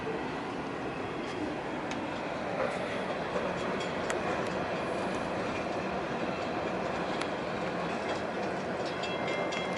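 A freight train rolls past, its steady wheel clatter and rumble continuous and fairly close, with faint metallic squeals now and then and no talk.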